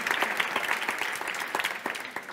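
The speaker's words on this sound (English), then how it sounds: "So a big round of applause, please, for them." Audience applauding panelists at a speaker panel event in Spain, a steady patter of many hands clapping at moderate distance, filling the room evenly throughout.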